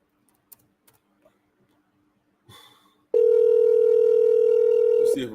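A telephone ringing tone sounds while a call is being placed, a steady loud tone holding for about two seconds after a few faint clicks and a brief burst of background noise.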